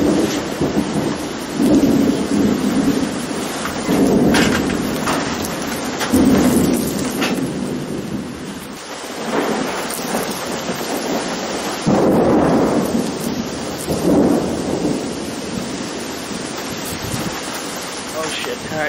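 A thunderstorm with heavy rain pours down steadily outdoors, broken by repeated deep rumbles of thunder near and far. A faint voice may be mixed in.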